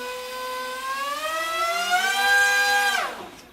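The electric motor and propeller of a Xiao Bai Ma A380 flat foam RC airplane whine steadily and rise in pitch as the throttle is advanced, a loud, close, harmonic tone that drops sharply at the end.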